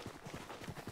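Horse hooves gallop in the video game Rust, a quick, faint run of clip-clop beats in a brief burst with no voices.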